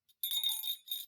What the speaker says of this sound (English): the gentle bells from the sheep